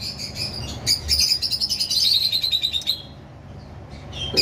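A cream face cockatiel chirps in a rapid series of high whistled calls, fairly close and moderately loud, then falls quiet before a last short chirp.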